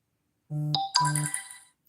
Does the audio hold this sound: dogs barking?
no